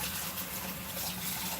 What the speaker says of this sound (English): We'll rinse that bowl just a little bit so it's easier to clean.